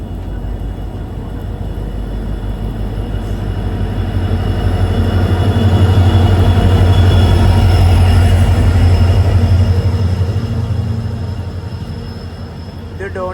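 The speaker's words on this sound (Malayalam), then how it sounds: "മറ്റൊരു ട്രെയിൻ ഇതാ വരികയാണ്." The Donyi Polo Express passes through Chaparmukh Junction station, a deep rolling rumble of wheels and carriages that swells loud near the middle and fades away, with faint squeals and a voice underneath.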